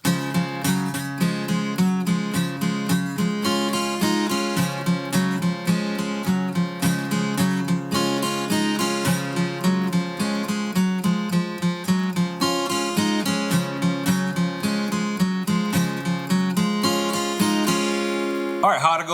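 An acoustic guitar strums an easy version of a song in a steady, even rhythm of repeated down and up strokes that stays close and full for almost twenty seconds, with no voices over it.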